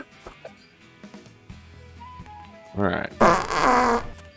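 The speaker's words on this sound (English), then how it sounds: "I play a fart sound." A fart sound effect fired off a soundboard during a voice chat, a loud, buzzing blat lasting over a second that follows a short spoken word and some quiet background chatter.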